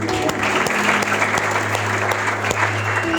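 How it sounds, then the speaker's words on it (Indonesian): During a church sermon the congregation gives a full round of applause, steady dense clapping with a faint low hum beneath it and no voices. "Boleh kasih tepuk tangan?"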